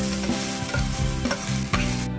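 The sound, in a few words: chef stir-frying rice with ingredients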